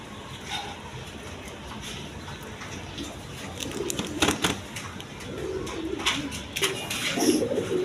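King pigeons coo in a loft, several low rolling coos rising and overlapping toward the end, moderately close, with faint rustling and clicks underneath and no speech.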